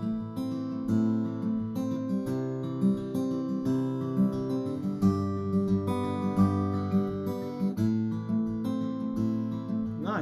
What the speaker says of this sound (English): So now we're into melodic Travis picking land.